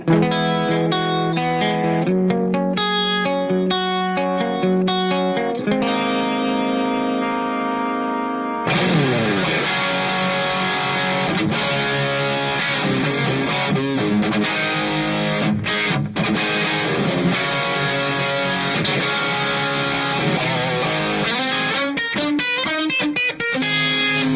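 Electric guitar through a distortion effects pedal plays a continuous riff, first with sustained chords, then with a thicker, crunchier tone full of dense, gritty strumming.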